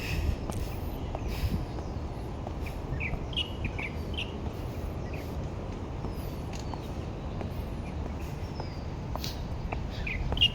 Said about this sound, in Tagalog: Tapos ang pinaka gusto ko talaga yung mga huni ng ibon.